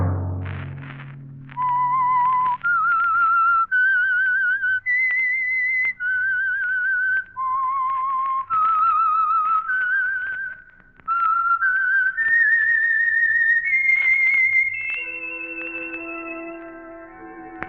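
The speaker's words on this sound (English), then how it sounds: "Let that whistle be your signal for the Signal Oil program, The Whistler" A melodic whistled tune serves as the signal for the Signal Oil radio program The Whistler, clear and loud in a series of sustained rising and falling notes, ending with a held orchestral chord.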